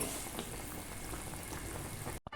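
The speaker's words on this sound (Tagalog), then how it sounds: "Very perfect talaga yung pagkakulo, oh." Sinigang with salmon head bubbles in a pot at a steady rolling boil, a constant close burbling that cuts off abruptly at the end.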